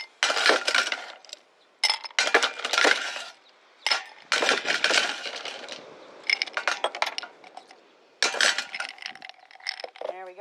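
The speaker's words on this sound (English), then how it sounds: "Now we're going to fill our glass up with as much ice as you can get in it." Ice cubes clatter into a glass for a margarita, several bursts of bright clinking and rattling close up, with brief pauses between scoops.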